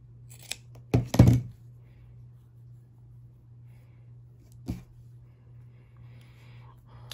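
Scissors snip through folded paper at an angle while a paper clip is crafted, giving a short cluster of crisp cuts near one second and a single later snip, close and fairly quiet over a steady low hum.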